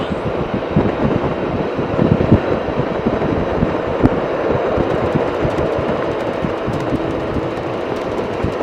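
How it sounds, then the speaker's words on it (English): Wind buffeting a rider: a continuous, loud, gusty roar of air battering the microphone, with low rumbling pulses throughout and no talk. "Let this wind beat me up a little bit."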